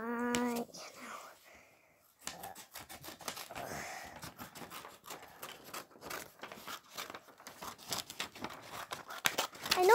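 Scissors snip a small circle out of blue paper, with rapid, close, crisp cuts and paper rustling that follow a brief pause at the start.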